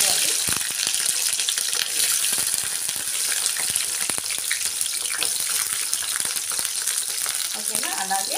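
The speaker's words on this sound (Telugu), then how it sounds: "పచ్చిమిరపకాయలని నూనెలో ఫ్రై చేసుకోవాలి" Green chillies and garlic fry in oil in a pan for a country-style tomato chilli chutney, a close, loud, steady sizzle punctuated by sharp crackles and spatters throughout.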